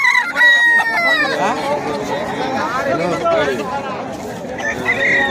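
Several roosters crow and chickens cluck over a crowd's chatter at a rooster-fighting fair, the calls overlapping at close range in a busy outdoor gathering.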